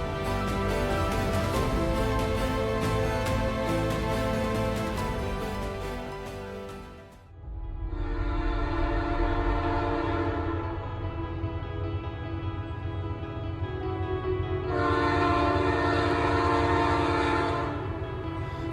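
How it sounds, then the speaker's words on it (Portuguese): A passenger train crossing the arid Thar desert of Rajasthan, India, rumbles loudly and steadily throughout, with a brief dip midway and a long sustained horn sounding twice over the running noise. "embarquei em um trem que cruzou por quase 6 horas o árido deserto do Rajastão"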